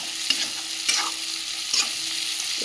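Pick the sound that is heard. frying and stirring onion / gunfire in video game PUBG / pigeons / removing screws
frying and stirring onion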